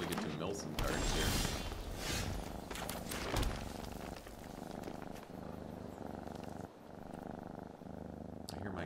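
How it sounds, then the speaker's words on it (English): A house cat purrs close by with a low continuous rumbling throb, while someone talks over it at times. "I hear my cat purring here."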